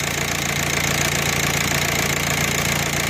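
A VW Passat TDI 2.0 PD diesel engine (BHW) idles steadily nearby, a continuous, loud, even clatter with a low rhythmic drone and no voices.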